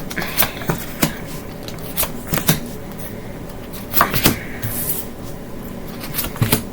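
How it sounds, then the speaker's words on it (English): Tarot cards being shuffled and mixed by hand in several quick riffling bursts, close by, with brief pauses between. "I've already pre-shuffled the cards, but we'll go ahead and mix them up a little bit"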